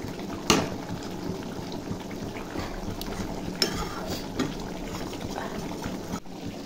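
Whole potatoes for biryani simmer in a pot with a soft, continuous bubbling hiss, broken by a few sharp clicks and knocks, fairly quiet and close.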